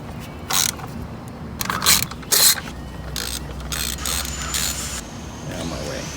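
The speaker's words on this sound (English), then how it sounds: "Let's put the ignition coils back in. And we'll bolt those down so we don't lose the bolts." Short bursts of ratchet clicking as bolts are driven down on ignition coils of a 2012 Dodge Journey during a spark plug change, several quick clattering runs close by, with no talk.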